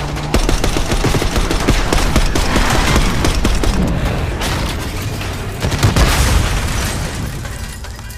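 Call of Duty Black Ops 6 gameplay erupts in dense automatic gunfire and booming explosions, loud and continuous with rapid bursts and heavy blasts throughout.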